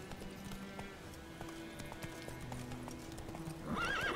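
Roach the horse gallops in The Witcher 3, with rapid rhythmic hoofbeats under ambient game music, ending in a loud, close neigh.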